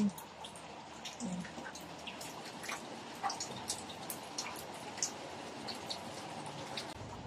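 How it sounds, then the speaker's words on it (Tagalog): Rain falls outdoors in the city, a soft steady patter with scattered distinct drips and drops striking surfaces nearby. "Umulan na."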